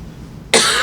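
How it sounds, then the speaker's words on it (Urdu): A single sudden cough breaks a quiet lecture setting about halfway through, loud and broadband, lingering briefly to the end. "آج کل سبھی کھانس رہے ہیں"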